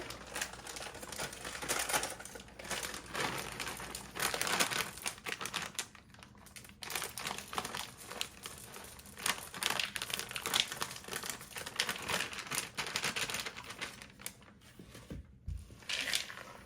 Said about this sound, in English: So now I'm gonna add the entire bag of these caramel chips into here.